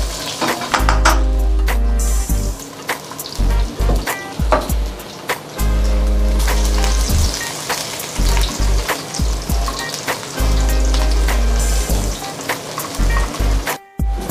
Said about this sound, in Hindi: अब मसाला हमारा कुकिंग में बिल्कुल रेडी है, हम इसमें डाल देंगे तकरीबन 15-20 अदद लहसुन छोटे छोटे टुकड़े।